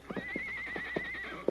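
A horse on a trail lets out a single clear whinny lasting over a second, with a few soft hoof clops underneath, close and fairly quiet.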